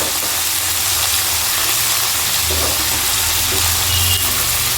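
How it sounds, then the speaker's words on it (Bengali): Mixed vegetables and Malabar spinach stems fry in a pan with a steady loud sizzle and hiss, plus occasional stirring scrapes, continuous throughout with no talk. "সবজির সাথে একই সাথে কিন্তু পুঁই ডাঁটাটাও আমি ভেজে নেব।"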